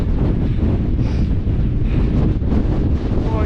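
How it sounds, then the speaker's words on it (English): Strong gale-force wind roars across a Scottish mountainside near Ben Lomond, a constant heavy buffeting against the microphone with no talk. "Oh, it's windy."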